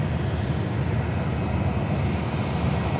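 A jet airliner takes off from runway 36 Center at Charlotte airport. Its engine roar is broad and steady, loud and continuous for the whole stretch, with no voices heard over it.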